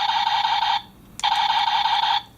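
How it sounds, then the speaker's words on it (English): A Buzz Lightyear action figure fires its toy laser: two bright electronic buzzing bursts split by a short click, loud and close, with no voices. "So he also has the laser, which sounds like this."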